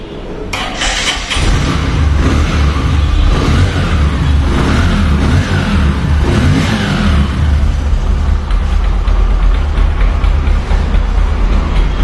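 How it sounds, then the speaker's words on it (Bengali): A Discover 100cc motorcycle engine starts and then idles steadily, with a loud, close, even thrum and no talking over it. "আমি আপনাদেরকে দেখাবো এই বাইকটির সাউন্ড কন্ডিশন"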